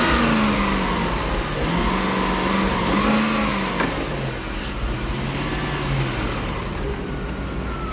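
Lexus GS400 engine running on a deliberately rich fuel condition revs up and down in uneven surges, then sags and dies, recorded close in the engine bay against a loud steady roar.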